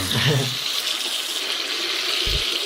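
Water runs steadily from a faucet fitted with an AliExpress nozzle attachment at low pressure, a continuous hiss close by, with a brief low thump near the end.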